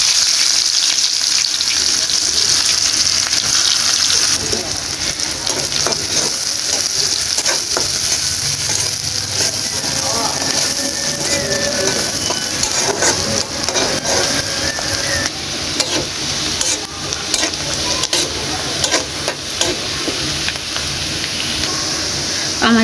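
Chopped onions hit oil already used to fry fish and sizzle loudly and continuously with a bright hiss, while a spoon stirs and scrapes the pan throughout.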